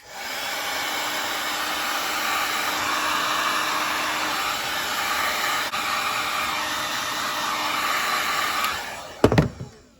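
A heat gun blows hot air steadily and loudly onto a steel braided fuel line, a constant rushing hiss for nearly ten seconds before it clicks off with a short clunk.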